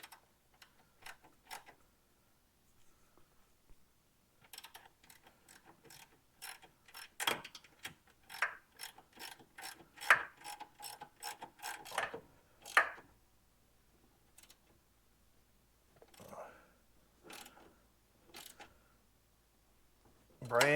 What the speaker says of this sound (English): Putting a new bolt in there with some new washers, a lock washer, and a nylon nut